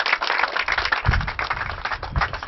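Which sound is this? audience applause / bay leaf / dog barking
audience applause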